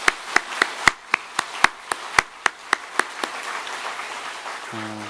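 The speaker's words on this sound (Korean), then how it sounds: "우리 격려로 박수 한번 해주셨으면 좋겠습니다." A church congregation in Gwangyang claps in a crisp, evenly spaced rhythm of sharp, close claps, which then loosens into a softer, scattered patter of applause, with a brief tone at the very end.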